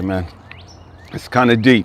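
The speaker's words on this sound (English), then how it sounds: "Hopefully you guys can hear the birds behind me" A few brief morning bird chirps and whistles sound in the background between and under a man's close speech.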